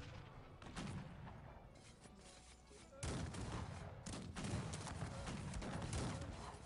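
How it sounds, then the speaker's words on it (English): Musketeers fire volleys in the Cossacks 3 strategy game during an online 3vs3 battle, giving dense overlapping crackling gunfire that builds and swells louder halfway through, with battle noise throughout. "For now, my musketeers are firing."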